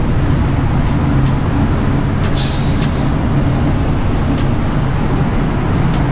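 Mitsubishi Montero Sport 2013 with a 4D56 diesel engine, stock intake and full side-exit exhaust with downpipe, running on a dyno: a loud, steady engine drone that holds constant throughout, with a brief hissy burst partway through.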